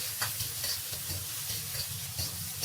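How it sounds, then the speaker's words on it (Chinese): Dried chili peppers stir-frying in a wok with a spoonful of hot oil, a dense steady sizzle with scraping stirs, close and alone with no voices. "倒入干辣椒，把干辣椒炒香炒干。"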